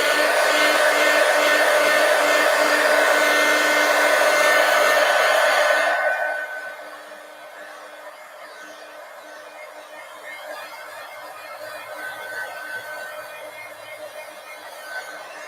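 A hair dryer drying paint on a 24x36 collage poster blows loudly and steadily at close range for about six seconds, then switches off, leaving a faint hum and quiet room tone.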